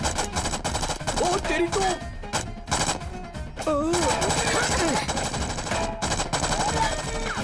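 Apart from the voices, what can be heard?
gunfire from guns in a movie scene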